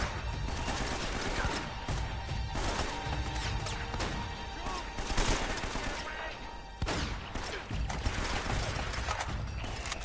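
AK-47 gunfire rattles through a fortress level of the video game Uncharted: Drake's Fortune, with repeated sharp bursts and crashing impacts spread across the stretch, loud and busy, while someone speaks occasionally over it.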